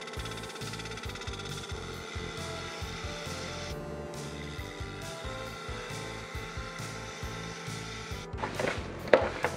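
A lathe turning a small maple burl dish, with a 3/8 inch bowl gouge working the wood: a continuous rhythmic thumping and scraping hum at steady pace, ending with a few sharper knocks.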